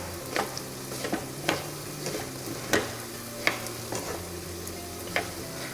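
Miracle leaves (konda pindi) fry in ghee in a pan, a soft steady sizzle punctuated by a series of sharp spatula scrapes and taps at irregular intervals.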